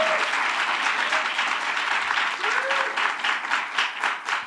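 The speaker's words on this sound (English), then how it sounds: "Let's give Nancy Rankin a big round of applause for all the great work that she's done" An audience applauds at a minimum wage announcement with union leaders, steady dense clapping that stays even and begins to fade near the end.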